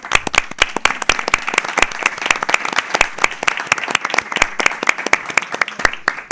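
Audience applause at a charity talk-show gathering in Madrid, a dense run of many hands clapping steadily and close, loud and continuous for several seconds with no talk over it.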